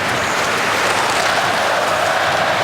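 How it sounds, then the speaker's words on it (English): Hockey arena crowd at a New York Islanders vs Detroit Red Wings game on a Saturday afternoon, a dense, loud wash of cheering and clapping that stays steady throughout. "Crowd lively early on here on this Saturday afternoon"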